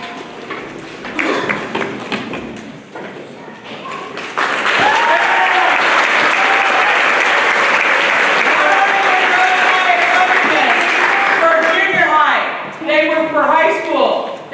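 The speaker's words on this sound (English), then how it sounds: "So give them one more round of applause" An audience at a spring school band concert breaks into loud, sustained applause after someone speaks, the clapping swelling and then fading under more talk.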